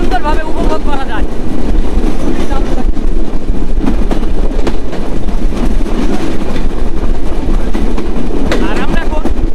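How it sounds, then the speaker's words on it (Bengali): Chitra Express passenger train running through open fields, a loud continuous rumble with rhythmic clickety-clack of wheels on rails and strong wind rush, heard close from aboard. "আর আমরা এখন খোলা মাঠের মাঝখান দিয়ে যাচ্ছি, অতীত দানব চিত্রা এক্সপ্রেস।"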